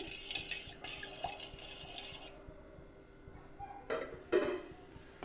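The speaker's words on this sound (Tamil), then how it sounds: "அப்பப்போ நம்ம இந்த மாதிரி கிண்டி விட்டுட்டே இருக்கணும்" Quiet scraping and stirring in a pot, a utensil rasping against the bottom with a faint clink near the end.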